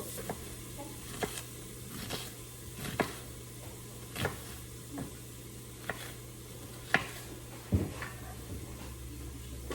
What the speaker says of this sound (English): I'm gonna get the ground beef and onions right inside.